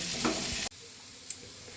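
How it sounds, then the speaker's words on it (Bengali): Small unpeeled potatoes with turmeric and salt sizzle loudly in a hot pan, a steady frying hiss that cuts off abruptly, leaving quieter crackle and a brief stir. "এবার একটু আমি আলুটা ভাজা ভাজা করে নেব"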